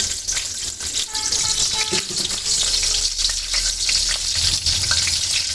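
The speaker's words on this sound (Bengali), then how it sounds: "এখন গরম কড়াইয়ে তেল দিয়ে দিব" Loud, continuous sizzling of chilies frying in hot oil in a pan, with occasional clanks and stirring scrapes.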